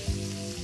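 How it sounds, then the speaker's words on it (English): Pork chops sizzle loudly in a frying pan over very high heat, a steady, dense crackle filling the short stretch with no talk. "You get a frying pan full of that"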